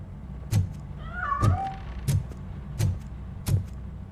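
Cat meowing in the video game Robocop Rogue City, a short wavering mid-pitched meow among five evenly spaced sharp thumps or footsteps, no talk.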